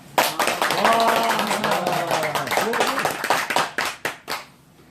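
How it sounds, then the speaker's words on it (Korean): A church Bible-study group bursts into cheering and brisk clapping, loud and close at first, with voices shouting over the applause before it tapers into a few scattered claps. "함성과 함께 박수 치는 겁니다"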